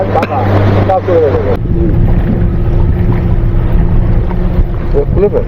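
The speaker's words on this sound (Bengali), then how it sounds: "সমুদ্রে এরকম স্পিড বোটে চড়তে পারছি" A speed boat ride out on the sea near Andaman, with a loud, steady engine drone and heavy wind buffeting the microphone throughout, while people talk over it.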